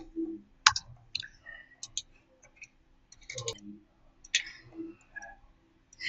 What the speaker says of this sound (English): holding down your left mouse button, and then right-click